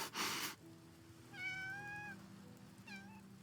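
A cat in a story-driven video game gives two meows, a longer drawn-out one then a short second call, heard over faint background music after a brief burst of noise.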